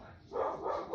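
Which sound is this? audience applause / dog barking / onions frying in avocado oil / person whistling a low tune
dog barking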